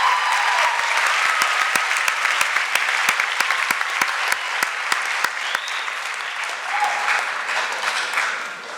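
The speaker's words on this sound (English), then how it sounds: "I think we can all give her a round of applause for all of her hard work." A conference crowd gives a sustained round of applause at a youth closing plenary, dense clapping with a few sharp individual claps standing out, steady for several seconds before easing slightly.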